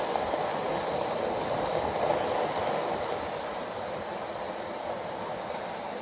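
A Hornby RailRoad Flying Scotsman model train runs steadily on a layout, giving a continuous close rolling rumble and whirr of wheels on track with no clear breaks, alone without talk.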